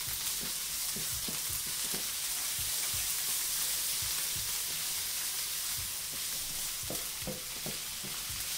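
Brown sugar being stirred in a hot sizzling pan, a steady frying hiss with repeated scraping strokes of a utensil at close range and no voices.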